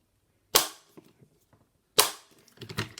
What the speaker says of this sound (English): just show you how it will sound when it clicks